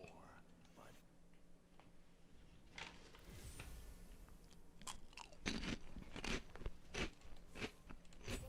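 Close-mic crunching and chewing from one person biting into crunchy food during a gaming live stream, with irregular loud crunches and faint whispery mouth sounds.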